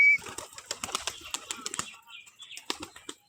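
Pigeon fluttering and flapping its wings close by while coming down to feed from a hand outdoors in the morning, a quick series of soft, papery wing beats and scuffles over about three seconds.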